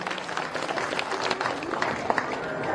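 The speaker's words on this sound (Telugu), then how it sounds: "ఒకసారి మరొకసారి చప్పట్లు కొట్టి అభినందనలు తెలియజేయండి" Audience clapping at a village rangoli competition during Sankranti festivities, a dense steady patter of many hands over about three seconds, with crowd murmur and a voice underneath.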